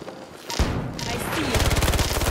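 Machine gun fire in Battlefield 2042 starts after a heavy thump, then settles into a fast, evenly spaced stream of loud, close shots.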